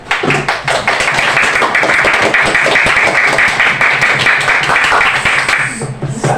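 Students in a classroom clap their hands together, a loud, fairly dense burst of clapping that holds steady for several seconds before tapering off.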